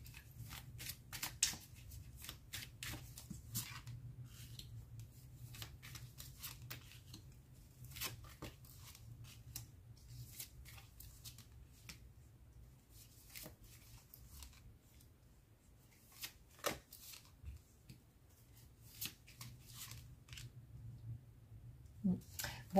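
Oracle and tarot cards being shuffled by hand, with soft repeated riffling and flicking sounds in close, quiet bursts across a long stretch.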